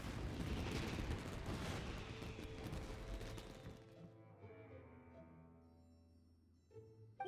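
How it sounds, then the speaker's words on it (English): Fireworks in the video game Genshin Impact burst in a dense, loud crackling volley for a few seconds, then fade into ringing tonal sparkles and a last small pop. "Yoimiya, this is turning into a bit of a fireworks display."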